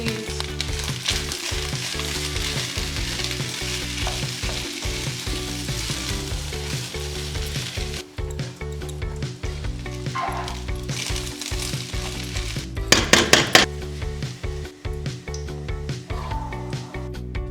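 Spring onion and red chilies frying in a pre-seasoned wok for Chinese egg fried rice, a loud continuous sizzle with occasional stirring scrapes and brief clatter, alone throughout.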